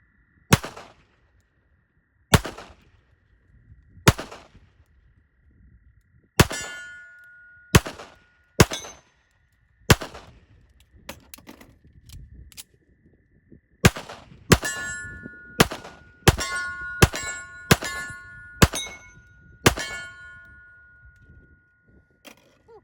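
Remington R1 pistol fired repeatedly at steel targets on a range: about fifteen sharp, loud shots in uneven bursts, many followed by a clear metallic ring from the struck steel.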